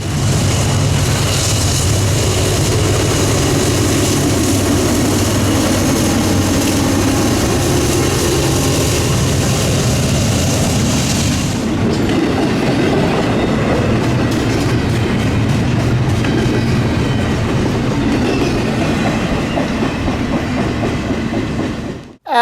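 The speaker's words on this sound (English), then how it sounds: "we were already jump scared by a train. NS-256" A Norfolk Southern freight train with EMD locomotives passing on Otis Hill, a loud, close, continuous roar of rolling cars and clattering wheels that drops in pitch partway through before cutting off.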